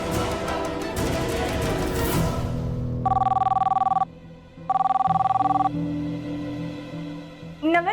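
Two clear bursts of an electronic telephone ring, each about a second long with a pulsing trill, sound over a dramatic music score with a pause between rings.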